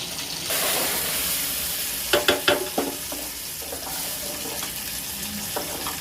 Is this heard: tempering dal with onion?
yes